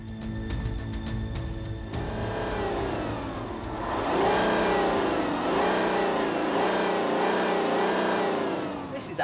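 Audi Q7 3.0 TDI SUV driving on the road, its diesel engine pulling with a steady mid-range drone that swells and rises in pitch as it accelerates, loud and close throughout.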